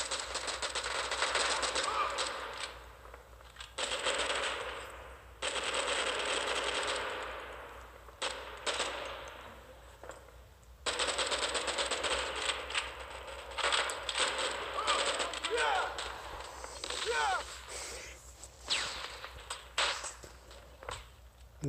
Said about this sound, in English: I'm shooting and I'm shooting and I'm shooting